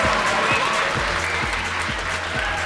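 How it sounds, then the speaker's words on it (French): Dense, sustained applause from an audience of middle school students, loud and continuous, with a few rhythmic low thumps underneath. "Applaudissez ici."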